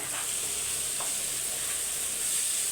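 Curry leaves frying in hot oil in a pan for fish curry, a steady close hiss and sizzle throughout with faint stirring.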